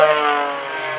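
Aerobatic propeller plane at an airshow, close and loud, a steady buzzing engine drone whose pitch drops slightly over one second as it passes.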